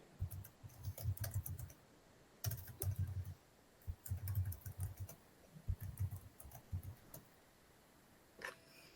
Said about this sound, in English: I see some people are still busy typing.